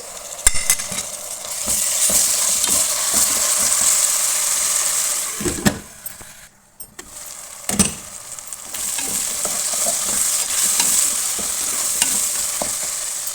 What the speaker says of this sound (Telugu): అల్లం వెల్లుల్లి పేస్ట్ కూడా రెండు నిమిషాలు ఫ్రై అయిన తర్వాత